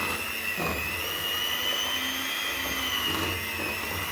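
An electric kitchen mixer beating homemade muffin batter whirs in a steady, loud, unbroken motor drone, close by, with no talk over it.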